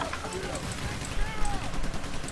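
Gunfire in PAYDAY: The Heist at First World Bank on Overkill mode, faint scattered shots crackling under a busy, noisy mix with players talking.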